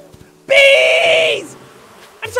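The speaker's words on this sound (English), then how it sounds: "Bees!" A swarm of bees in the video game Animal Crossing bursts into a loud, steady high buzz for about a second, then trails off into quiet.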